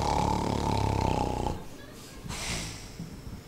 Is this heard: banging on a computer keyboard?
no